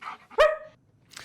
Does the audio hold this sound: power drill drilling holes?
no